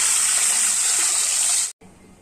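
Water from three large glasses poured into a pan for masoor dal khichdi, a loud steady gushing splash that runs unbroken for most of the moment, then cuts off abruptly, leaving a quieter trickle.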